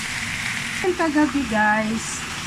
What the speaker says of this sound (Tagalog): Mag-fry tayo ng Chinese litos.